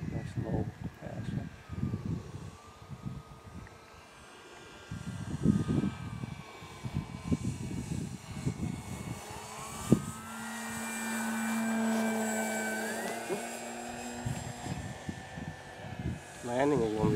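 A radio-controlled model airplane makes a low pass at a fun-fly event, its engine drone rising and passing over the field while people talk nearby.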